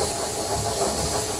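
Steady broadband hiss of steam from a steam locomotive as the steam is shut off, continuous and fairly close, with no voices.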